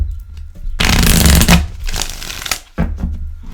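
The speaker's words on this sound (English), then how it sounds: "Give this a couple of good shuffles." Tarot cards are shuffled close by in loud, papery bursts, a long riffle followed by a few shorter shuffling passes separated by brief gaps.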